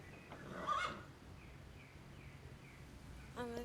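A horse whinnies in a farm video game, one brief nasal neigh early on and a second rising whinny near the end, fairly faint over soft ambient background sounds.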